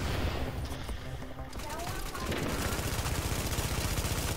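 Rapid sustained bursts of light machine gun fire in a first-person shooter video game, loud and dense, with rhythmic repeating shots running through the clip.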